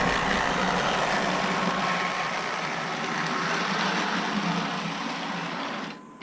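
A Lionel GG1 model locomotive in Amtrak 8303 livery, new old stock from 1989 and stiff with aged grease, runs with a steady whirring motor hum, close and continuous, that drops away at the end.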